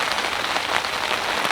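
Steady rain drumming on a fishing bivvy canopy beside a lake, a dense continuous patter that stays close and loud throughout with no talk.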